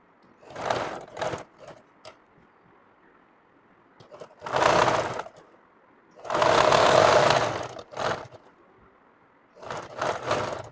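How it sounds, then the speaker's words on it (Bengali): A sewing machine stitches the side of a kameez with a collar design and beads attached, running in several quick bursts of rapid whirring with short pauses between, close and clear with no talk. "এটা জায়গাটা সুন্দর করে সেলাই দিতে হবে সাইডটা"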